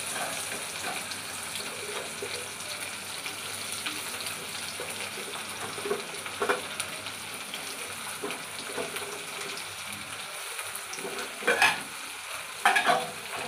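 Onion frying in a little oil for a rohu fish curry, a steady close sizzle with light stirring scrapes and a few louder clinks toward the end.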